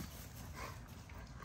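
A merle-coated dog gives a faint, soft whimper close by over a low, steady background hum, with no voices present.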